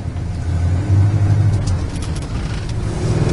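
A low-mileage original 1967 Pontiac GTO pulls away, its engine a deep, steady low rumble that swells as it accelerates, loud and close with no voices over it.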